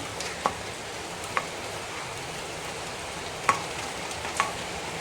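Jackfruit thoran with grated coconut sizzles steadily in a pan, with a few sharp clicks as a spoon scrapes and stirs through the mix. No voices are heard.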